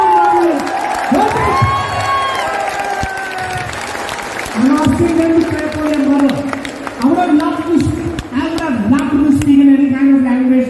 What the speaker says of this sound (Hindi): जोर से ताली बजाओ अपनी अपनी मां के लिए, जोर से।